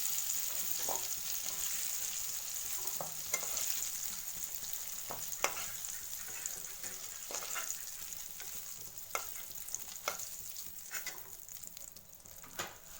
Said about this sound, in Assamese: ইয়াতে আমি আলুখিনি কাঢ়ি ল'লোঁ এই তেলতে আকৌ আমি মাংসখিনি দিম